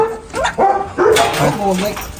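A puppy gives a few short, high yips and barks up close, mixed with people talking nearby.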